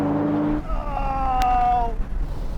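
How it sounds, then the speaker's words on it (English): A BMW Z4 M40i, Porsche Boxster GTS and Audi TT-S roadsters accelerate hard together from 50 mph in third gear, a loud rising engine drone heard from inside one car. "Now we can have a rolling race from 50 miles an hour in third gear."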